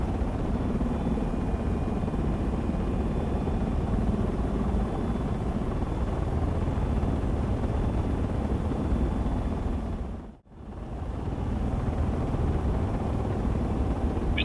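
Helicopter rotors in flight in the video game Project Reality, a steady loud drone throughout with one brief dip near the end, no voices.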